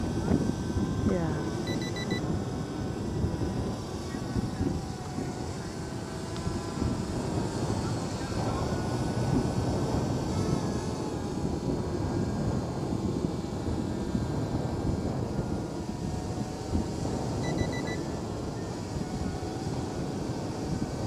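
Small camera drone lifting off and hovering above Formby beach, a steady engine drone with wind buffeting the microphone throughout, fairly loud and continuous.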